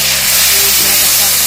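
Water poured into hot spice masala in a pan bursts into a loud, steady steaming hiss that fills the whole moment, close and continuous.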